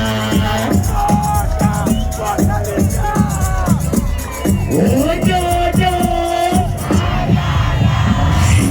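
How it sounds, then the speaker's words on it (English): A large stadium crowd at a live Focalistic concert in Malawi roars and cheers loudly and continuously, with shouts rising above the din and a voice calling out briefly. "Make some noise for yourselves one time."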